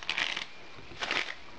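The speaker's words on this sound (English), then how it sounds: "just basically shuffle them a couple times now" A deck of playing cards shuffled twice, two quick riffling bursts separated by a short pause, close and fairly quiet with no talking.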